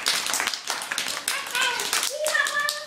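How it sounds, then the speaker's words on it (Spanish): A school class applauds a child after a fable recital, with a burst of clapping from many hands, nearby and lively, mixed with children's voices chattering over it. "le damos un aplauso a Patricia."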